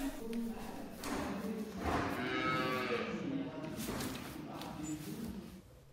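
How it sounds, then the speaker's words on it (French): Restless cattle lowing on a farm in darkness before dawn, several drawn-out moos rising and overlapping at moderate distance against steady barn ambience. "Il fait encore noir et les vaches s'agitent."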